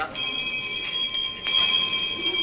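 Hand bell rung at a stock up-listing ceremony, a bright sustained metallic ringing that swells and renews midway, close and fairly loud.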